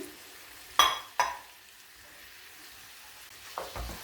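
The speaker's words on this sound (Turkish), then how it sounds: "nazik hareketlerle yavaş yavaş fasulyenin ve patatesin ezilmesine izin vermeden karıştırıyorum" Green beans and potatoes stirred gently in a pot, with a couple of close spoon knocks and scrapes over a faint, low frying hiss, no voices.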